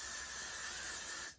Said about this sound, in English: you're just gonna go take your Got To Be spray in